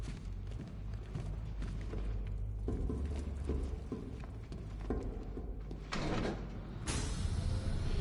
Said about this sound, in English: Shutting the vault door will contain the blast.